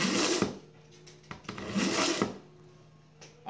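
A knife is pulled back through the steel wheel of a two-stage knife sharpener with steel and ceramic wheels, giving a few separate gritty rasping strokes, close and fairly quiet, with short pauses between them.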